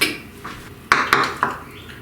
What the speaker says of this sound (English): I'm stirring it, trying to get it just a little more smooth, a little smoother